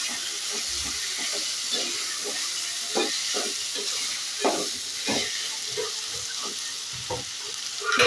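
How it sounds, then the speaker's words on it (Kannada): Vegetables and three medium tomatoes sauté in a pan for hotel-style khara bath, a steady close sizzle with repeated scraping stirs and small pops, no voice. "ಟೊಮೆಟೊ ಸ್ವಲ್ಪ ಸಾಫ್ಟ್ ಆಗಬೇಕು, ಅಲ್ಲಿವರೆಗೂ ಬಾಡಿಸ್ಕೋಬೇಕು."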